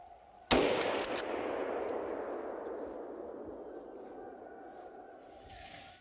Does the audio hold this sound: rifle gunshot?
yes